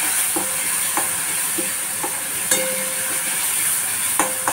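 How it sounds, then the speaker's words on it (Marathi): Peanuts are stirred into a pan of eggplant bharit, with a spatula scraping and tapping the pan every second or so over a continuous close sizzle and no talk. "थोडे शेंगदाणे घालायचे मिक्स करून घ्यायचं"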